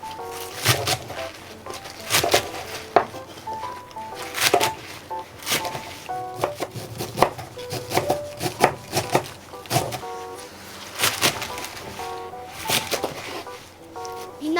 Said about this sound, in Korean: 쪽파 일단 송송 썰어줍니다.